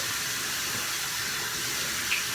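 Cold tap water runs steadily into a sink for rinsing after a safety-razor shave, a constant close hiss with no speech.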